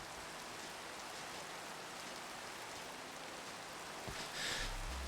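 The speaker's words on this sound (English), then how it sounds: "let's sleep and get rid of this rain because I am tired of hearing it." Steady rain in a video game, a dense, even hiss of drops on surfaces that runs unbroken, with a short louder low thump near the end.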